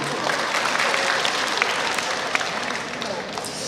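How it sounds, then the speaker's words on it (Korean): Steady applause from an audience at a Naju community leaders' rally, filling the room evenly and continuously with dense clapping. "박수 한번 주십시오"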